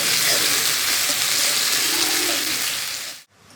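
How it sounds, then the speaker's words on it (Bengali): Onion fried with ginger-garlic paste in a pan, for a mutton curry, gives a steady close sizzle and crackle. It stops abruptly near the end, and nobody speaks. "এই দেখুন পেঁয়াজ, আদা, রসুন খুব সুন্দর করে আমি ভেজে নিয়েছি"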